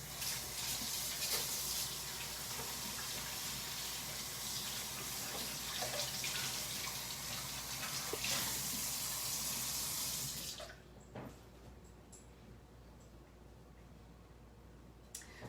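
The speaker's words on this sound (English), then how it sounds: "I'm gonna wash my hands." Hands being washed under a running tap: a steady close rush of water for about ten seconds, then it stops, leaving faint drips and small handling sounds.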